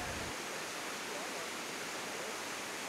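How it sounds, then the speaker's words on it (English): Waterfall in the Potomac River gorge, a steady, dense roar of rushing water with no breaks, continuous and fairly loud throughout. "this is my river, and this is my waterfall"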